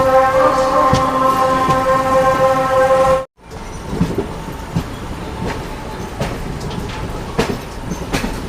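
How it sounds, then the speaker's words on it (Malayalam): Express train pulling slowly out of Kozhikode station, a loud continuous rumble with a sustained horn-like tone that cuts off abruptly, followed by rattling wheel clatter and scattered knocks from the carriage. "മെല്ലെയാണ് വണ്ടി പോയിക്കൊണ്ടിരിക്കുന്നത്."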